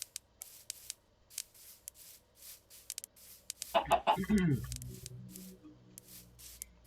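Minecraft chickens give a short burst of clucks midway, surrounded by quieter game ambience and faint clicking.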